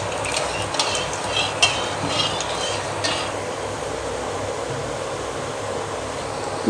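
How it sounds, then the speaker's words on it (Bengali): Sugar is stirred into hot oil in a wok (kadai) for a meat curry, giving a steady, loud frying sizzle with a few light metallic scrapes and clinks in the first few seconds. "কড়াই তেল দিয়েছি এবার চিনি দেব"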